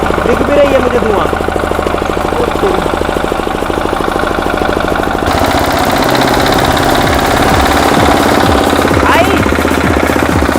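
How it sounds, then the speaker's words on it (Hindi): A smoky diesel engine runs loud and close with a rough, knocking idle, its tone shifting partway through as it settles into a steady throb; voices can be heard faintly under the clatter. "चलो फिर से स्टार्ट करते हैं इसको।"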